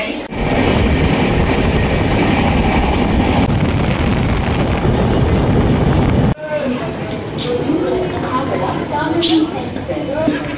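Inside a moving passenger train, a steady roar of rumbling and rushing wind fills the carriage, then gives way to quieter clattering and scattered faint knocks, with voices talking over it.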